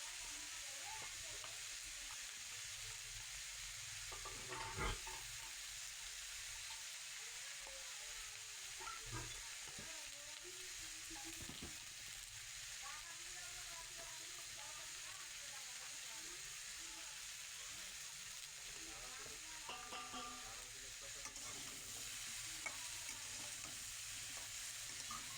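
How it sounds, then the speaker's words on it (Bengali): Cauliflower and potatoes fry with turmeric and salt in a pan, a faint, steady sizzle broken by a few soft clacks of stirring. "লবণ দিয়ে কিছুক্ষণ এটাকে আমি ভেজে নেব।"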